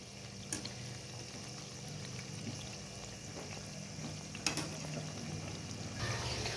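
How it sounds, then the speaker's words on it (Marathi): Crab-shaped onion fritters (khekda bhaji) deep-frying in hot oil over a low flame, a steady close bubbling hiss running throughout with a couple of brief louder crackles. "जेणेकरून भजे आतपर्यंत व्यवस्थित तळले जातील आता आपण हे व्यवस्थित तळून घ्यायचे"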